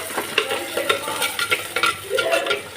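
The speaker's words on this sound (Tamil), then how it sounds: "வெங்காயம் வதங்கட்டும்" Chopped onions frying in a pan with salt and curry leaves, a steady sizzle broken by repeated scraping strokes of a spoon stirring the pan, close and fairly loud with no talking.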